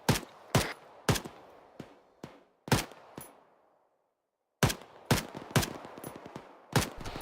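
Rapid gunfire in the military shooter Arma 3, a run of loud, sharp shots in uneven bursts with echoing tails, a short quiet gap, then another volley of closely spaced cracks.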